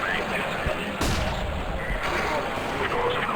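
Gunfire from a Mag-7 shotgun in a professional CS:GO match at a big tournament, with a sharp shot near the start and a heavier blast around the middle, set against game noise and a caster talking throughout.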